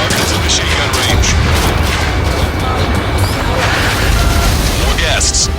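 Fighter jet in Ace Combat 7 with dense, loud roaring combat noise throughout, continuous rapid gunfire-like bursts blended with engine rush and scattered higher crackles, close and sustained.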